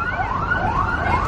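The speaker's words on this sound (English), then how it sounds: "Yung police car nila." Police car siren on a street in Tbilisi, Georgia, wailing in steady rising and falling sweeps, fairly loud and continuous over low traffic rumble, with no talking.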